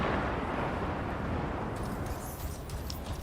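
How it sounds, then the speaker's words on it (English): Orbital bombardment in a sci-fi video game sounds as a dense, continuous rumbling roar of explosions that stays loud throughout, with a brighter crackling layer rising toward the end. "Death via orbital bombardment, exactly."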